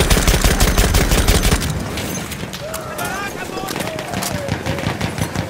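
Automatic fire from a Chauchat machine gun in the World War I shooter Battlefield 1, dense rapid bursts loud at first, then thinning into scattered distant shots with battlefield voices and whistling tones throughout.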